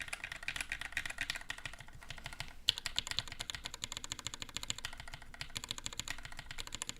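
Brisk typing on a mechanical keyboard with a brass plate, close and crisp, a dense stream of rapid clacking keystrokes with a brief pause near the middle, no talking.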